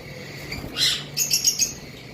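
Pet cockatiels in a breeder's stock give short, bright chirps in a few quick bursts over a quiet background, close and moderately loud.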